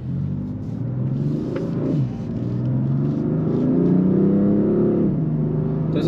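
BMW M4 Convertible engine pulling hard while driving, a steady deep rumble climbing in pitch through the gears, with a brief dip at a shift before rising again, heard close from inside the cabin with no talking.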